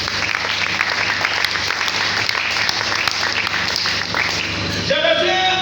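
A church congregation claps loudly and steadily in sustained applause, a dense wash of hands that swells and ends with a brief voice at the close.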